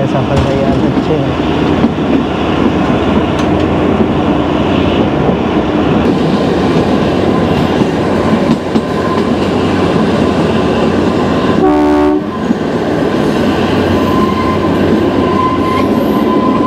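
The Kalka–Shimla toy train runs on the rails, heard from inside a Vistadome coach. A loud, continuous rumble and rattle of wheels fills the whole stretch, with a brief tonal horn-like blast near the end.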